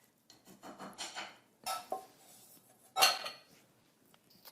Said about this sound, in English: I'm just going to add that and then incorporate it by folding